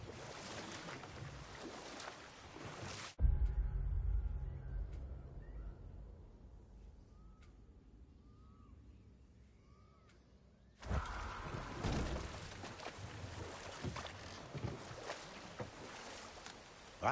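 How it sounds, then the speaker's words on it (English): Rushing waterfall water in a PS4 video game, a loud steady broadband roar that cuts out to a quiet stretch with soft tonal music and returns just as loud, with no talking. "Waterfalls."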